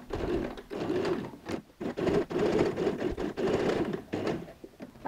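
A sewing machine tacking a handle onto a fabric bag, running in short bursts of rapid stitching broken by brief pauses, close and fairly quiet with no speech.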